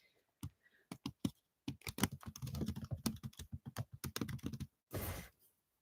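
Rapid typing on a computer keyboard, close, crisp clacks in dense irregular bursts with short pauses, ending in a brief louder rustle.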